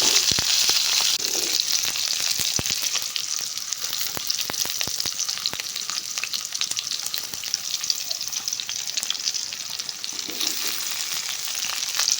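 Steady, close sizzling and crackling of onions frying in hot oil, with occasional sharper pops throughout and no voices.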